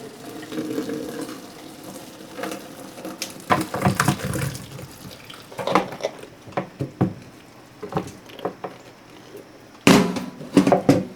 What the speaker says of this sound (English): I also try to drain off as much of the water as I can before the potatoes start to go into the colander